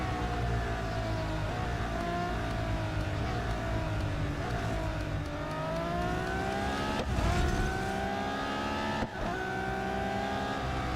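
A racing car engine in Real Racing 3 roars steadily, its pitch rising and falling through gear changes and revs, loud and close throughout, with a couple of brief dips in the drone.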